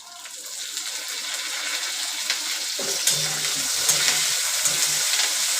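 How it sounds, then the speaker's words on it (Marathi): Curry leaves hit hot oil for crispy bhadang, a puffed-rice snack, and set off a loud, close sizzle. The hiss builds and spreads over a few seconds with light spattering and stirring noises, and no one speaks. "थोडंसं तेल टाकते तेच तेल टाकते काढून ठेवलेले ते त्यातलं तेल थोडंसं टाकते कढीपत्ता टाकते"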